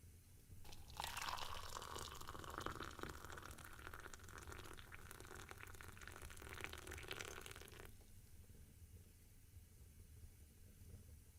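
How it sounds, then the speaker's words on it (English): Tea poured from a pot into a cup in a quiet room, a steady liquid stream running for about seven seconds before stopping, close and soft. "Allow me to pour you some tea."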